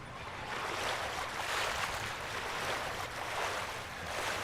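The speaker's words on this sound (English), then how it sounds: "Now you're treading water." A character treads water in Ghost of Tsushima, with a constant wash of splashing and rolling surf noise that swells and eases gently, steady and moderately loud, with no voices.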